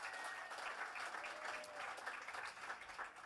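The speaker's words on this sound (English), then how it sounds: "Give a round of applause to Asia," Steady audience applause fills a studio at a traditional Irish music event, dense and sustained throughout with a faint cheer or whistle near the start.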